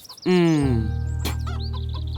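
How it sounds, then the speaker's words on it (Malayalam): A hen gives a loud, close clucking call at the start, then a steady low hum carries on beneath it. "മിന്നുകോഴിയിട്ട മുട്ട ഇന്നും പൊട്ടി."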